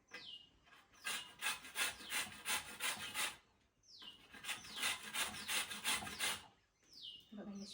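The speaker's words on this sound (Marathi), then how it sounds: "तर त्यासाठी मी आधी साल ही किसून घेते" Ridge gourd peel is grated for a dry chutney in a rapid series of rhythmic rasping strokes, close and distinct, arriving in three bursts separated by short pauses, with faint bird chirps behind.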